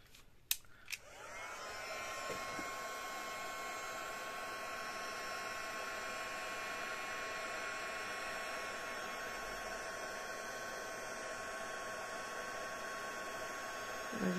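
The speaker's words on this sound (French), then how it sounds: "Mon heat gun sent le talc" A heat gun blows a steady, continuous whooshing roar with a faint hum, drying watercolour on a slimline card; a couple of sharp clicks come as it switches on, then the airflow holds for the rest.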